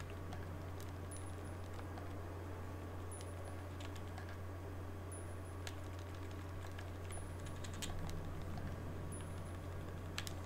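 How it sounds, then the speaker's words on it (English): Sparse, faint clicks and ticks of a slow on-screen typing animation in Resident Evil Director's Cut, scattered over a steady low hum. "there's a really cool typing animation here"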